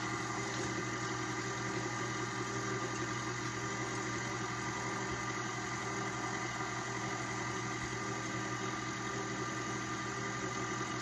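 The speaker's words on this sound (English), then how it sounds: "I'm gonna put it down, lock it in place, and put it on a low temperature." KitchenAid stand mixer running on low speed, a steady continuous motor hum with a mechanical rattle, level and unbroken throughout, no talk.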